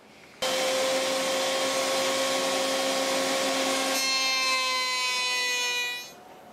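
A router cuts a beaded edge along a wooden drawer front, giving a loud, steady high-pitched whine that starts abruptly, holds for several seconds, then spins down as the motor winds off.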